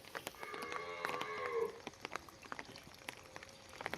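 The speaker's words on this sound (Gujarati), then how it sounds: "શંકર ગાયો આજે પલળી ગઈ છે" Cattle lowing in a wet farmyard during monsoon rain, a few drawn-out moos early on over a steady patter of rain, with scattered drips and splashes continuing afterwards.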